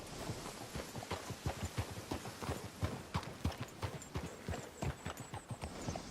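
Steady clip-clop of horse hooves walking at an even pace in the video game Red Dead Redemption 2, fairly close and clear, with no talking.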